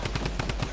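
Sniper gunfire in an online shooter game, a rapid series of sharp shots repeating about every tenth of a second, close and loud with no talk over them.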